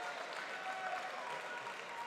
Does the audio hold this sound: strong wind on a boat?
no